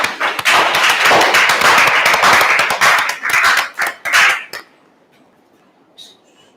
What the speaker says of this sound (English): let's give a huge round of applause for Sharvin and Yuhan.